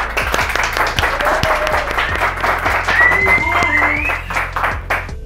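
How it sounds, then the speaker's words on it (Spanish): Studio audience applauding and cheering as a guest is welcomed onto a Mexican comedy talk show set, steady dense clapping with a brief whoop or whistle, over a thumping low music bed. "con un fuerte aplauso"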